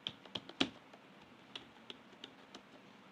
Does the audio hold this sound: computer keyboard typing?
yes